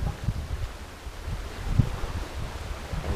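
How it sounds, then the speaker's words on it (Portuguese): Strong wind gusts buffet the microphone on a rocky coastal shore, a continuous low roar with surf-like rushing and a few heavier blasts, no voices. "A ventania tá começando."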